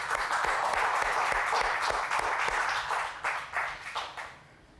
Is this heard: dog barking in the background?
no